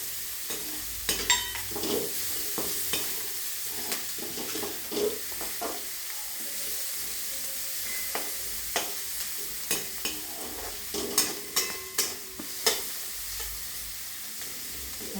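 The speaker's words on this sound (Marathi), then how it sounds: "थोडं परतून घ्यायचं आणि त्यातच ही शिमला मिरची टाकायची म्हणजे तीही परतून निघते" Capsicum and carrot pieces sauté in a pan with a soft steady sizzle, broken by repeated scraping and clinking strokes of a spatula stirring the vegetables.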